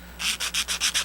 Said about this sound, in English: and just scrape